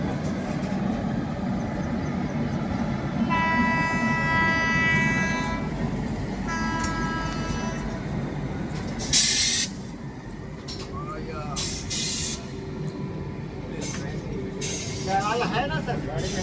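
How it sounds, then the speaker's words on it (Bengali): A train on the opposite track rushes past, a continuous broad rumble and hiss heard from inside a moving Tejas Rajdhani Express, with brief tonal squeals and a sharp burst midway, plus faint voices. "কোনো একটা ট্রেন অপোজিট সাইড দিয়ে ক্রস করছিল"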